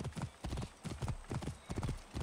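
Horse hooves galloping in Assassin's Creed Origins, a fast, steady rhythmic clatter of heavy footfalls, close and continuous.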